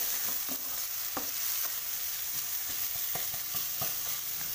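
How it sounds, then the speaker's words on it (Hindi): Ginger garlic paste frying and being stirred in a little oil in a pan, a steady close sizzle with scattered scraping stir strokes, no voices. "एक मिनट तक इसको अब हम इसमें फ्राई करते हैं"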